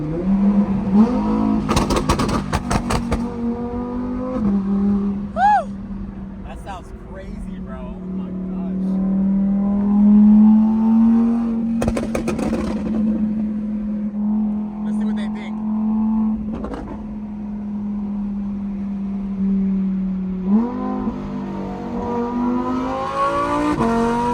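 An Audi R8 sports car engine roars and revs loudly from inside the cabin, rising and falling in pitch through repeated pulls, with people talking excitedly over it.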